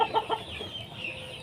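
A few chickens clucking close by in a backyard, a short burst of quick clucks at the start that fades into softer, sparse calls, with no one speaking.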